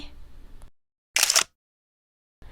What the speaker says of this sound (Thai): อุมาพรกด ชัตเตอร์แวบ